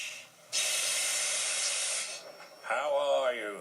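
A steam engine on a station platform lets off a loud, steady hiss of steam for about a second and a half, then it fades and a voice imitates the sound with a breathy 'wheesh'.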